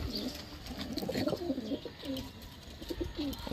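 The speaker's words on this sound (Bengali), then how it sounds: "আন্দ্রা ফুলশিরা অসাধারণ কিন্তু পায়রা রয়েছে" Andhra Fulshira pigeons coo in a series of soft, low, rolling calls, several overlapping close by against a steady background hum with no talk.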